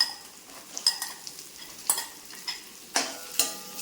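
Chopped shallots and crushed garlic fry in oil for a soya chunks thoran, with a soft sizzle under sharp, irregular spoon scrapes and taps against the pan, close by.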